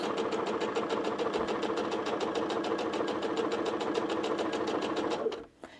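Home sewing machine stitching a mini holiday stocking, a fast, even mechanical chatter of the needle running steadily for several seconds up close before stopping abruptly, followed by a small click.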